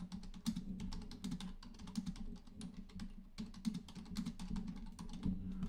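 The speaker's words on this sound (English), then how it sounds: "Hold on, I'm typing something." Quiet, steady typing on a computer keyboard, with rapid clicking keystrokes continuing throughout and no voice heard.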